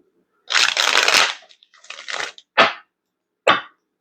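Tarot cards are shuffled in a few papery riffling bursts: one long flurry, then shorter quick riffles separated by pauses, close and fairly loud.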